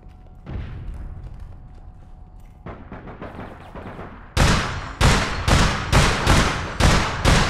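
Gunfire in the online shooter APB Reloaded: scattered shots at first, then a string of loud, evenly spaced heavy bangs in the last few seconds, with no voices.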